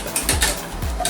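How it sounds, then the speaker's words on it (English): Tiramisu cream being whisked by hand in a bowl: quick, rhythmic scraping strokes repeat several times in a brief burst, close and fairly loud. "Constantly whisking."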